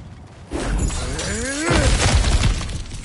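Breakable objects smashed apart in the God of War Ragnarök video game, a burst of shattering crashes and cracking debris with sliding tonal swoops, loud and close with no talk over it.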